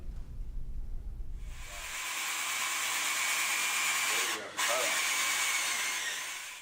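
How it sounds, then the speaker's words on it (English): A power tool whirs loudly and steadily after a low rumble while building a farm high tunnel, briefly cutting out and restarting, with a hissing, grinding edge. "The sound of power tools and manual labor fill the air"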